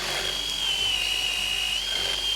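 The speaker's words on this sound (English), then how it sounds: "So this is real time, drilling the first hole" A power drill with a 3/4 inch extended-length bit whines steadily at a constant pitch, boring continuously through a landscape timber for the whole stretch with no pauses or voices.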